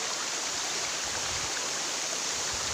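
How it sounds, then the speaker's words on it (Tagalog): The Lambingan Falls waterfall flows in a dense, steady roar of rushing water, loud and close, with no voices over it. "Ito na yung Lambingan Falls mga idol."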